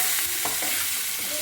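Eggplant bharta with asafoetida tempering being stirred in a hot pan, a soft continuous sizzle with a few scraping strokes of the spoon, close and quiet.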